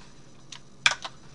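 A few light keystrokes on a computer keyboard while a spreadsheet formula is being entered, three quick clicks in a quiet room, the middle one the loudest.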